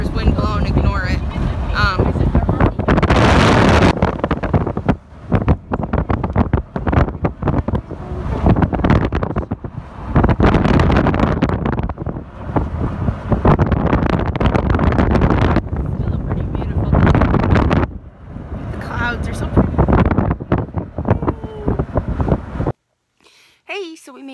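Strong gusts on a windy day buffet the microphone in heavy, continuous roaring rumbles that rise and fall, with a person talking underneath, ending in a brief cutoff.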